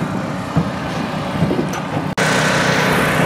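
A roofing seam welder runs with a steady motorized whine and broadband hiss on a job site, continuous and fairly loud, with a brief dropout near the end before the drone resumes.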